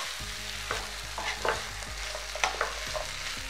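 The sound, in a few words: stirring potatoes and capsicum in spice masala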